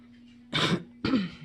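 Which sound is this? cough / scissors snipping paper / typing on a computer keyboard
cough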